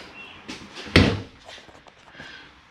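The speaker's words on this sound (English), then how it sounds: "Close this exterior door again." An exterior door on a Seismic 4125 toy hauler swings shut with a single sharp, solid thump, preceded by faint handling noises and followed by quiet rattles.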